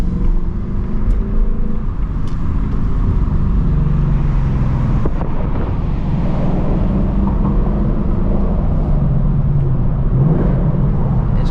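A 2024 Ford Mustang GT with its stock exhaust hums low and steady from inside the cabin while driving, a muted continuous engine and road drone with no talk.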